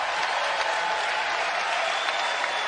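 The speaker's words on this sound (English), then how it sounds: "As Elena Cuello will take a seat and gets the senior cheer" A home crowd at a Pac-12 women's college basketball game between Colorado and Arizona in 2023 applauds and cheers a senior player as she heads to the bench, a dense, steady roar of clapping and crowd noise throughout.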